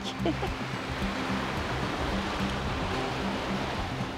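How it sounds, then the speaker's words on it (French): Steady wash of ocean surf at Tadoussac fills the scene, a constant broadband roar with a low engine-like hum underneath and no clear voices. "Puis entendre le bruit des vagues, ça, c'est vraiment apaisant"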